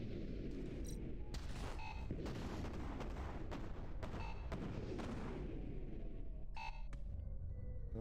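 Repeated explosions and booms from a missile attack in the space combat game A-Spec First Assault, a loud, dense barrage with sharp bursts scattered across the stretch and no speech.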